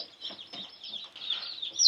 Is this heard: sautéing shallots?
no